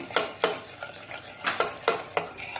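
Cooked dal being mashed with a tumbler makes a run of about eight soft, wet thumps and clacks in an uneven rhythm, close by with no talking.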